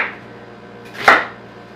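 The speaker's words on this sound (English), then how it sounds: "We're using the whole onion though. So I'm going to chop it into" A knife cuts through a whole onion on a cutting board, a single close, sharp chop, with no talking.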